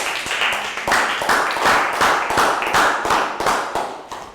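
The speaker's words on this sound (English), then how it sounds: "Big round of applause for Bangpon." Children in a Year 3 maths classroom clap for a classmate in a quick, fairly rhythmic burst of sharp hand claps, close and clear, fading toward the end.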